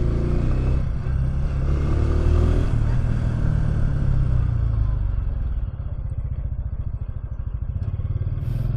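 A Bristol Cub Pro motorcycle rides over road humps, its engine a steady close drone with thumps and clattering as it crosses the bumps, then settling into a rapid pulsing putter.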